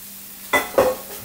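A spoon stirs cooked brown rice and beans in a pan, giving two short, soft scraping swishes over quiet background hum.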